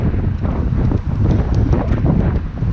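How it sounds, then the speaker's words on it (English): Strong wind buffeting a GoPro microphone during a ride-along at the Alisal Fire, a continuous loud low rumble with gusting surges and no speech. "As you can hear, the wind is pretty strong."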